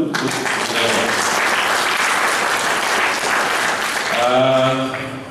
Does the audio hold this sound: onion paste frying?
no